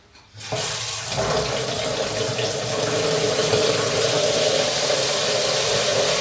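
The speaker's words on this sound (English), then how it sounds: "Adding some water." Water gushes steadily from a tap into a mordant bath for dyeing silk after a brief quiet start, a loud, constant rushing that continues without pause.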